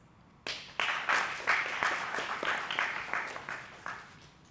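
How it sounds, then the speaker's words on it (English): A conference audience at an AI ethics book seminar breaks into applause after a brief quiet: a sudden onset of clapping with distinct, evenly spaced sharp claps, moderately loud and gradually thinning toward the end. "So please give yourself a round of applause"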